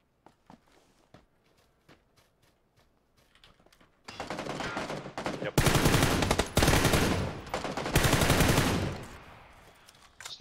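PUBG gunfire begins as a few scattered single shots and footsteps, then bursts into loud, rapid automatic fire that comes in several long volleys with brief pauses between them.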